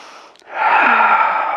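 During a group Pilates class on hip and thigh mobility, a deep rib-cage breath is taken: a short catch of air, then a long, loud airy exhale close to the microphone.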